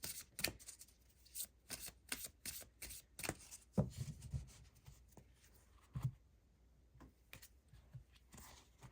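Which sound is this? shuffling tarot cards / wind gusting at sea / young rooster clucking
shuffling tarot cards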